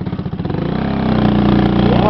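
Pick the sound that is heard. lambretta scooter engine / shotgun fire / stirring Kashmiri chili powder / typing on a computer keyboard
lambretta scooter engine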